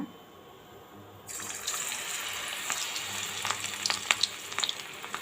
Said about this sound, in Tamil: இப்போ இதை நம்ம எப்படி பொரிக்கிறதுன்னு பார்க்கலாங்க